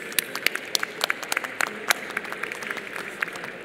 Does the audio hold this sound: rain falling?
no